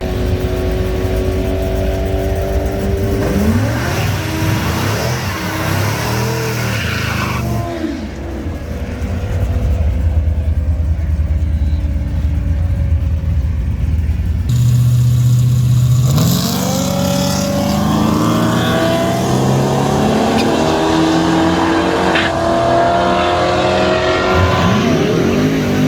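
A car passes close by under hard acceleration, its engine rising through several loud sweeping revs, fading, then surging again in a second run.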